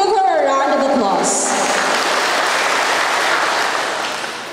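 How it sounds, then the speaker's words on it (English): Applause fills a public gathering after a speaker is introduced, broad crowd clapping that swells right after a voice trails off at the start and then fades toward the end. "Let's all give her a round of applause."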